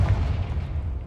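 Hogwarts Legacy Confringo fire spell blast, a single low booming burst that rumbles and fades over about a second, with no talk.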